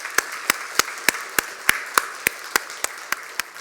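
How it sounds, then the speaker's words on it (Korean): A church congregation at a Sunday service claps for newly appointed choir members, sharp claps landing together on a steady, even beat, about a dozen in quick succession. "우리 인사할 때 크게 박수해 주시면 좋겠습니다"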